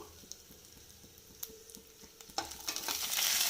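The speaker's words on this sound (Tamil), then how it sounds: "தேங்காவை ரோஸ்ட்டு பண்ணணும் நம்ம" Grated coconut roasting in ghee on a low flame for jackfruit payasam, with a soft sizzle, light stirring taps and scrapes that grow louder toward the end, close by.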